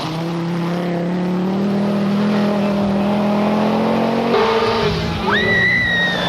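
A rally car on a 1981 Lake-region stage drives hard, its engine note climbing through gears, then a sharp change as it brakes and a high tyre squeal rises near the end.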